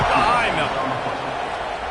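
Stadium crowd roaring in a College Football 26 game before a kickoff, a broad loud wash of cheering that fades slightly over two seconds.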